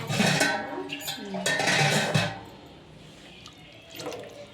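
Water splashing and running into a pot for cooking noodles, two loud pouring bursts close by with faint clinks of cookware, then quieter dripping afterward.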